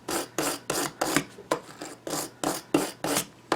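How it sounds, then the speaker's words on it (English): Hand file working on a part of a Fay & Scott lathe, about a dozen evenly paced rasping strokes in close succession, each a short gritty scrape, close and clear with no talking. "A little teeny bit of filing."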